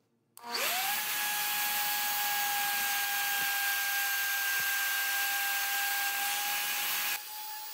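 A router fitted with a new bit spins up and then holds a steady high whine while plunging into wood for a baby crib, running close and loud for about seven seconds before winding down.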